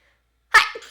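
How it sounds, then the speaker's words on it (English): A single sharp human sneeze bursts out after a short silence, close and fairly loud, trailing off with a brief breathy tail. "That was a sneeze."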